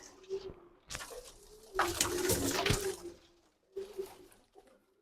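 Domestic pigeons kept by a pigeon fancier cooing in soft, uneven bursts with short pauses between, close by, with some brief rustling and a faint watery drip in the background.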